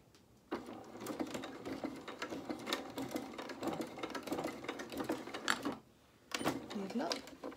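A domestic sewing machine stitches a shirt cuff in a steady, close, rapid run, with a brief pause near the end before stitching resumes, likely during reversing. A voice talks over it.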